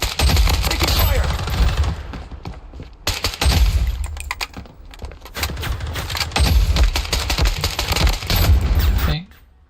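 Rapid automatic gunfire rattles in dense bursts during a Fallen City Brawl match, loud and close. The bursts are separated by brief pauses and end with a sudden drop-off.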